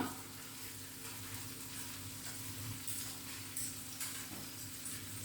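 Tomatoes and shallots stir-fry in a pan for a mushroom and eggplant curry, making a quiet continuous sizzle with faint stirring and no voices.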